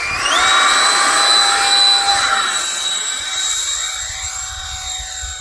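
An electric ducted fan model jet, the FF-117V2, spools up with a steady rising whine in a video game, holding a loud high-pitched drone that slowly fades as it pulls away.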